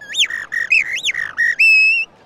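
Whistled imitation of a blackbird's call by a bird-whistling performer at the Oktoberfest: a run of rising and falling warbled phrases ending in one long sustained steady whistle, clear and close with no talk.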